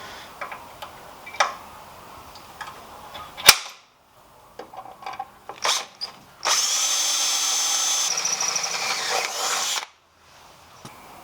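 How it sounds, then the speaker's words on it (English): A power drill bores holes in a car chassis during a sway bar install on a time attack turbo build, with a long steady whine after a few short bursts and clicks, close and loud with no talk. "Holes are now drilled on the other side."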